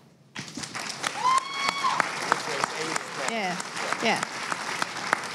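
A live audience at a political podcast tour taping in Philadelphia bursts into clapping on request, a dense sustained round that carries for several seconds while voices and cheers rise over it.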